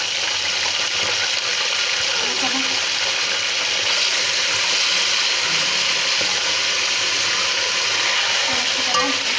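Chicken with salt fries and gets stirred in a pot while making shahi qorma, a steady dense sizzle with occasional scraping clicks of the spoon throughout.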